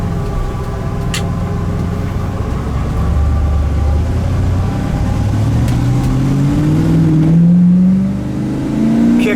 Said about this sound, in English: That dual exhaust sounds nice.